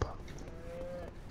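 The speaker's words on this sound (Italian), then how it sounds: "Ah, le mucche, vedi come mi chiamano?" A cow in a farm video game gives one drawn-out, fairly faint moo lasting about a second, with no other sounds around it.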